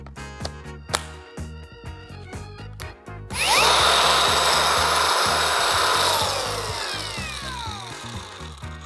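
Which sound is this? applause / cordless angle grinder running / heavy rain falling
cordless angle grinder running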